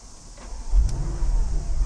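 A 2016 Audi S6 4.0 TFSI quattro starts up, a quiet beginning that swells into a low, close-up engine rumble with a brief rising flare as it catches and settles, with no talking.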